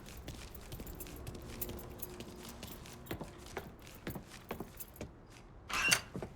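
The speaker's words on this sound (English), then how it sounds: "Hey, man, grab those keys." A set of keys jangles several times in Mafia 3, the metallic clinks scattered across the clip and quiet at first, then a brighter, louder jingle near the end, with no talking.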